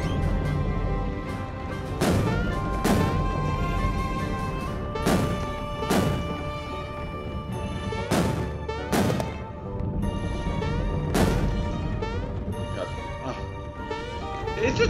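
Bullet Bills being destroyed in Super Mario RPG on a sunken ship level, a series of loud crashing impacts and thuds spaced every second or two over game music.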